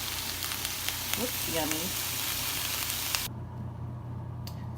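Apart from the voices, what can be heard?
vegetables sizzling in a frying pan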